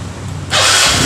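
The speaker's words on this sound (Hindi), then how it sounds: "और सेल्फ स्टार्ट मारेंगे।" A TVS Sport motorcycle is self-started, a low rumble abruptly swelling midway into a loud, hissing surge as the engine catches and runs, close to the listener with no talk.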